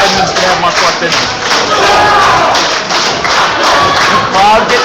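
A wrestling crowd at an indoor independent show cheers and shouts steadily through the whole stretch, a dense roar of many voices that swells in waves while a commentator talks over it.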